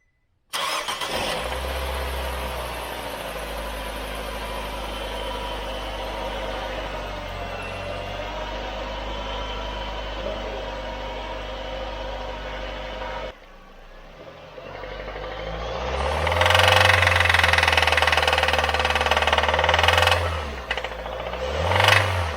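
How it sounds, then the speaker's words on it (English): A Nissan car engine cold-starting, with a crank and catch followed by a steady loud idle, then a brief drop and a rougher, louder stretch of idling with slight rev swells, no talk. "And this is a cold start."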